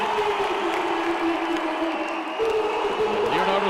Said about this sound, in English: And now the crowd begins to make noise